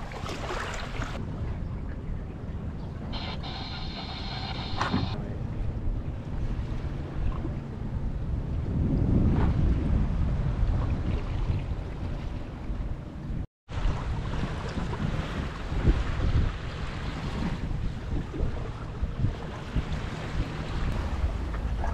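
A sailboat runs downwind in light wind with the head sail out and the wind almost directly behind, making about 3 to 3.5 knots. Steady wind buffeting and water rush fill the sound, with one brief dropout partway through.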